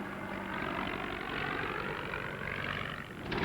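An old SPAD biplane with a propeller engine drones steadily overhead in a flyby, a broad continuous engine roar that holds evenly and swells again near the end.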